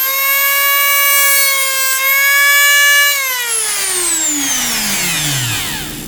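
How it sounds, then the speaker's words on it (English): A Dremel rotary tool fitted with a cutting wheel, used on an aluminum can for a homemade alcohol stove, holds a loud, close, steady high whine and then winds down with a long falling pitch. "take my Dremel with the cutting tool and cut around this line here"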